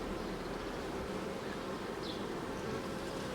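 Honey bees buzz steadily around an open hive during an inspection, a dense continuous hum that stays even and close throughout with no voices.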